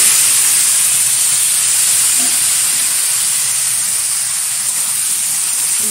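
Loud, continuous hissing sizzle as yellow-coloured cauliflower and potato pieces hit a hot pan, a dense steady spitting that holds evenly throughout with no talking.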